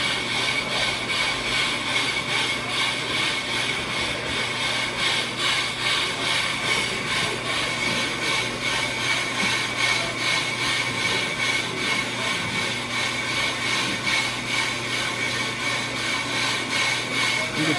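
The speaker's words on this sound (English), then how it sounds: "so this fast cut, just for removing large quantities of metal to make the surface machinable" A brake lathe making a fast, coarse cut across a brake rotor to strip metal, giving a steady, continuous high-pitched machining whine with a faint regular pulse that runs unbroken from start to finish.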